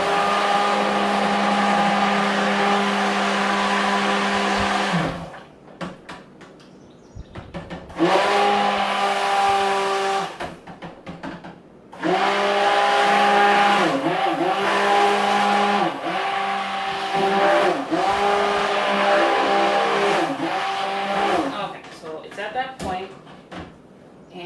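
A stick blender whirs steadily while mixing soap batter toward emulsification, running in several loud, sustained bursts with short pauses between them.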